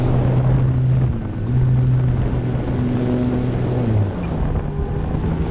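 An RC J3 Piper Cub model airplane's engine drones steadily in a dive into an aileron roll, a continuous buzzing hum whose pitch wavers and drops slightly toward the end, heard alone with some wind rush.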